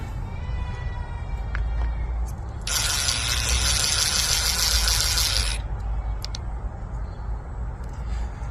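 EZ Snap screw-in snaps being driven into vinyl RV skirting, a steady power-driver whir for about three seconds in the middle, with outdoor background noise before and after.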